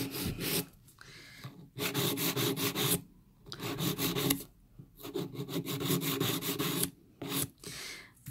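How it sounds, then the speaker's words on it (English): A nail file rasps along the sides of the nails on a practice hand trainer, close and steady, in repeated stroke bursts separated by brief pauses. "I'm going to start by filing the sides."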